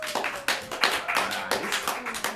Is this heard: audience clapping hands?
yes